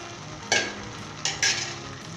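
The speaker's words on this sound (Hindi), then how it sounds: "हल्के हाथ के साथ मिक्स कर लें।" Boiled macaroni being stirred into stir-fried capsicum and carrots in a hot pan, a few short scraping, sizzling strokes over a steady low frying hiss.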